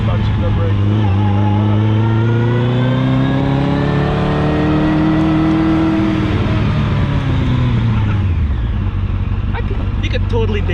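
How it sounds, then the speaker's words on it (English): A Westfield Seven sports car accelerates hard from inside the cabin, its engine revving loud and rising steadily in pitch before easing off, with occasional voices under the engine noise. "That accelerates so quick"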